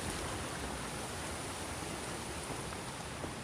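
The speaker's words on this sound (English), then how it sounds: "It's that milky glacier water." Milky glacier meltwater stream on the Pacific Crest Trail, a steady broadband rushing and burbling that holds even and fairly loud throughout with no voices.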